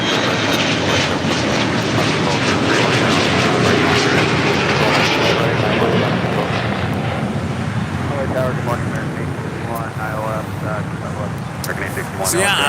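A jet airliner takes off from runway 25 Right at LAX, its engine roar loud and steady throughout, swelling then easing slightly as it departs, with chirpy background sounds near the end.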